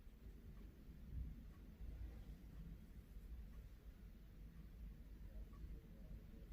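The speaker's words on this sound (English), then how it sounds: "It's thundering!" Thunder rumbles low and faint in the distance, a steady rolling murmur with no clear breaks.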